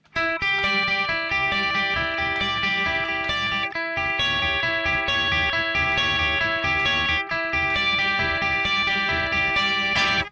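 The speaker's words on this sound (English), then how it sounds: "this is how the riff sounds clean" A clean electric guitar plays a repeating riff, steady and bright with ringing notes, looping continuously with brief breaks between phrases.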